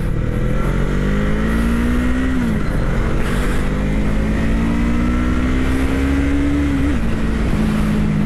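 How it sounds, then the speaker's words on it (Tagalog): FKM Falcon X400 motorcycle accelerating on a test ride, its engine droning loud and close with a steadily rising pitch, a brief dip as it shifts gear, then climbing again under constant wind rush. "ang galing acceleration niya mga soy"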